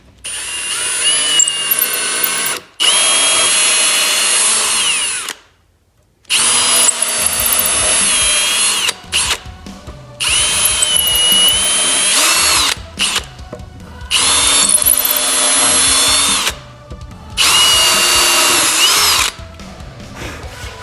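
A power drill whines loudly in several long bursts, pausing briefly between them as it bores holes through a wooden guitar neck.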